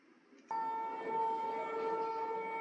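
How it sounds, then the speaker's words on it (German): A steady, loud air-raid siren tone starts abruptly after a brief quiet moment and holds on without pause, fairly close and unbroken, during a drill. "Sirene heult, alle werfen sich hin."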